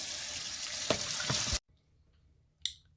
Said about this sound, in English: we use the sprayer on the sink